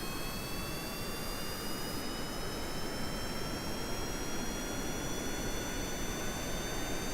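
Rocket engines in Kerbal Space Program throttle up into a steady jet-like roar with a thin high whine that rises slowly, holding constant and fairly loud without pauses or voices.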